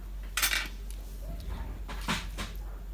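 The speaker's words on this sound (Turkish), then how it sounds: "İçteki iğnenin vidasını gevşeltiyorum." Small screwdriver loosening the needle screw on a Bernette b44 overlock machine, a few sharp metallic clicks and scrapes, close and brief, over a low steady hum.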